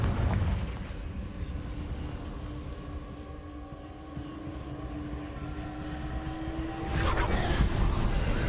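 The Confringo fire spell goes off in a Hogwarts video game, a deep, sustained rumbling roar with a steady tonal hum, then a louder burst of blast near the end. Heavy and loud, with no voices.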